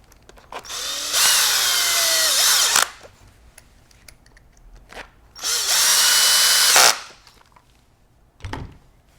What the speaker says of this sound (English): and the screws can be tightened